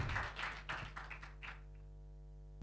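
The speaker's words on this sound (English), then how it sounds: "Please give a round of applause for" A conference audience applauds a speaker, Dr. Hatfield, with a burst of scattered hand claps in a hall that thins out and fades away within about a second and a half, leaving a quiet room tone.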